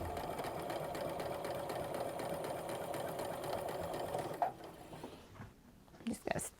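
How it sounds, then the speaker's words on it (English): A sewing machine runs steadily, chain stitching fat quarter quilt pieces in a close, continuous mechanical whir. It stops partway through, and then quiet handling and light clicks follow. "I'm just gonna chain stitch this other one."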